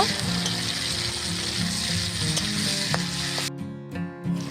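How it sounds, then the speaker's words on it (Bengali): Sliced tomatoes with a pinch of salt fry in hot oil as they are stirred, a dense continuous sizzle with light utensil knocks, briefly thinning out near the end. "এবার নেড়ে নিয়ে টমেটো হালকা করে ভেজে নেব"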